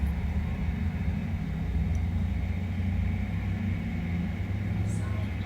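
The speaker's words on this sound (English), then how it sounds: "the road noise here. If it's not leaf blowers and chainsaws, it's the traffic" Constant low road traffic rumble from passing cars, a steady broadband drone with no distinct pass-bys, close and continuous throughout.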